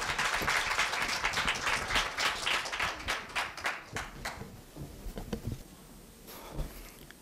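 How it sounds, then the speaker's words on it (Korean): An audience applauds a student speaker at a 2017 middle school speaking contest. Dense clapping is strongest at the start, then thins out and fades over about seven seconds. "큰 박수 부탁드립니다."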